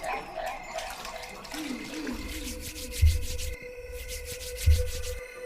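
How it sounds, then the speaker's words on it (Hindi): A cloth soaked in water from a nearby vessel is rubbed over palms and feet, giving close wet swishing and dripping with two soft, dull thumps partway through. "इस पर रुद्र ने वही पास रखे एक बर्तन में थोड़ा सा पानी लिया और फिर एक कपड़े को पानी में भिगोते हुए प्रत्यक्षा के हथेलियों और पांव में"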